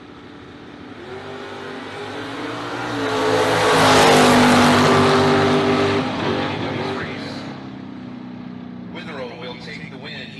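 Bracket drag racing at Immokalee Region Raceway, a Chevrolet S10 and a Mustang launching side by side down the strip, engines swelling loud and roaring past mid-clip, then fading away under a track announcer's voice.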